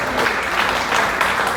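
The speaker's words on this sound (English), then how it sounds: "Give the staff a round of applause." Comedy festival crowd applauding the staff, a dense, steady wash of many hands clapping throughout, loud and close, with faint cheering mixed in.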